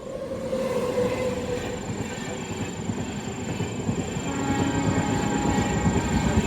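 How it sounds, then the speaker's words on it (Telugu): The Howrah–Bengaluru superfast express passes near Chunduru railway station, a steady rumbling roll of wagons with rhythmic wheel clatter that grows slightly louder toward the end, with no talk. "ఇటుపక్క ఏదో ట్రైన్ క్రాస్ అయితే అవుతుంది."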